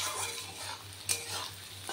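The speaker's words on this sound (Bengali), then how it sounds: "পেঁয়াজটা ভালো করে ভেজে নিই" Sliced onion frying in hot oil with cumin seeds, giving a soft, steady sizzle with a few scraping stirs of a spoon in the pan, heard quietly with no speech.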